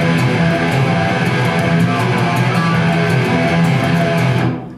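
Distorted electric guitar rings out without palm muting, a dense, sustained wall of tone with steady rhythmic picking, loud and close, fading out at the end. No speech.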